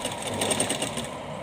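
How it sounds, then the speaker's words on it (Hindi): A sewing machine stitching the lower edge of a small handmade Janmashtami dress for a Laddu Gopal idol, a rapid, even whirring run of stitches heard up close, with no talking. "इसको नीचे वाली साइड को हम इस तरह से सिलाई लगा लेंगे"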